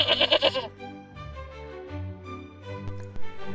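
A goat bleating in a folk tale, a loud quavering burst at the start followed by softer tonal, voice-like bleats and a few faint ticks, close and clear.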